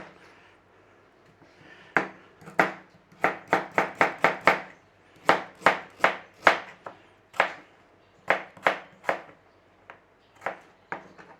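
Knife chopping parsnips on a board for a 1940s wartime Woolton pie, a steady run of sharp, close cuts in quick bursts with short pauses, no talking.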